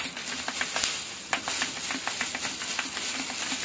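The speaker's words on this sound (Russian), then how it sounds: "Вот такое шипение происходит." Close, steady hissing and sizzling as sprayed water hits hot tempered glass, with a rapid run of small crackling pops throughout.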